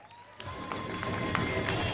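An audience claps steadily on a studio morning show, a dense, moderately close patter of hands that builds slightly, with faint cheering mixed in.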